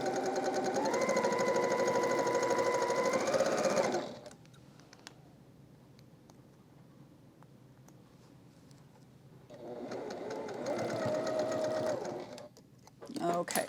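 A sewing machine stitches quilt block pieces in two long steady runs with a quiet pause between them, close and loud, ending with a brief restart.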